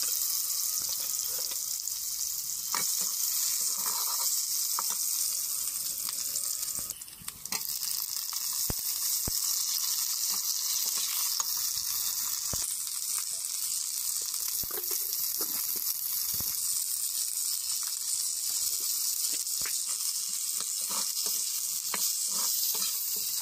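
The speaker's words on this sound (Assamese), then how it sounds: "এয়া চাওক বৰালি মাছখন এনেকৈ ধুনীয়াকৈ ভাজি লৈছে" Boroli fish frying in a pan sizzles steadily and close up, a constant hiss with faint pops and stirring clinks and no talking.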